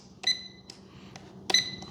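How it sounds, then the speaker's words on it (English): A radio transmitter for a Navy SH-60 Seahawk RC helicopter gives short electronic beeps, a couple of bright tones about a second apart, over quiet background. "Okay, so it beeps."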